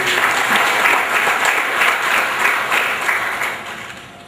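Steady applause from a crowd for an alumni association, dense clapping that holds at an even level for several seconds before easing slightly at the end.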